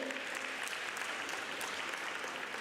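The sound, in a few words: applause for a speaker coming to the stage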